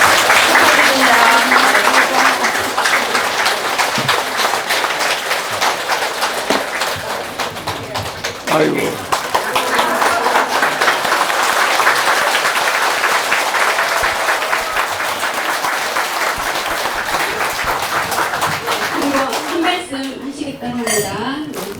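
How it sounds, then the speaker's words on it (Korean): Dense audience applause at a Korean lecture event, loud and steady for about twenty seconds with a brief dip midway, tapering off at the end. "박수 부탁드립니다"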